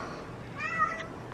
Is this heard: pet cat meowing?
yes